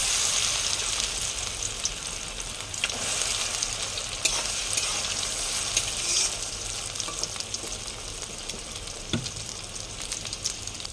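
Soya chunks frying in hot oil in a pan, a steady dense sizzle throughout with occasional stirring scrapes and small pops, no talking.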